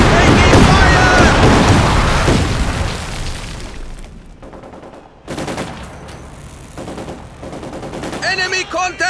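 Company of Heroes 2 battle gunfire: loud, dense machine-gun bursts and booming blasts for several seconds, fading into scattered shots and a rattling burst near the end.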